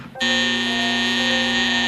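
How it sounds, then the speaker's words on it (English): A smoke alarm blares suddenly in a home, a loud continuous piercing buzz that starts abruptly and holds steady at full volume. "that's when the smoke alarm went off"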